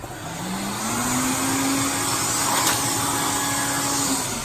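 A Quantum vacuum cleaner runs with its crevice tool fitted, giving a steady loud whine with a slowly rising motor tone that holds throughout; no one talks.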